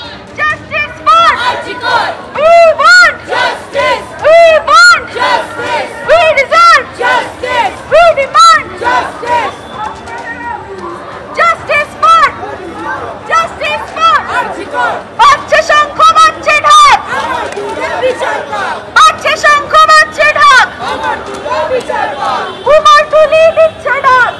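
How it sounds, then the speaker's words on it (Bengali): Protest march crowd shouting slogans in rhythmic call-and-response bursts, loud and close, with a lead voice and many voices answering in repeated chants. "এই মুহূর্তে মিছিলের কি স্লোগান সেটা আমি তোমাকে শোনানোর চেষ্টা করব"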